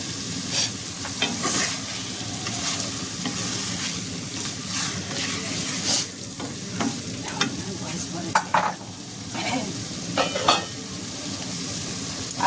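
Meat frying in a pan crackles and sizzles steadily while a utensil stirs it, with recurring scraping bursts and clatters close by over a continuous bed of hiss.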